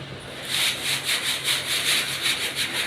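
Walis tingting coconut-rib broom sweeping a dusty floor with holes and gaps: a steady run of close, scratchy bristle strokes in a quick, regular rhythm, with no talking.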